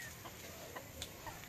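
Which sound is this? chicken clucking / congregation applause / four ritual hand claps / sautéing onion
chicken clucking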